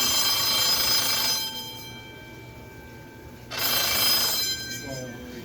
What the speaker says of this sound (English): This is an Edwards fire alarm bell.